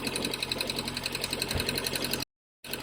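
An MG Midget engine with twin SU carburettors idles steadily, giving a fast, even mechanical chatter close by, then cuts out into brief silence before resuming.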